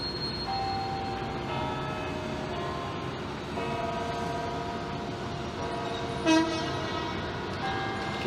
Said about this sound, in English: Oh, there's the noonday chime.